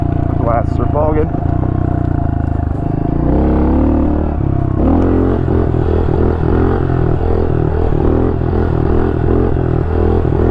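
Honda CRF110 dirt bike engine revving hard and steady under wheelies, a close, loud buzzing motor with clattering and rhythmic pulses, while a rider talks over it.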